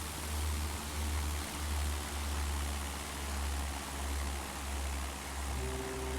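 Aircraft on a takeoff run in a flight simulator, a steady droning engine with a deep pulsing rumble, loud and unbroken, with a tone rising near the end.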